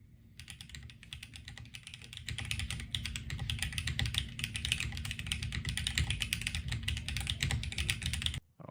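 Mechanical keyboard typing in a sound test: a dense, rapid run of keystrokes clatters steadily for about eight seconds, loud and slightly blown out, with no voices.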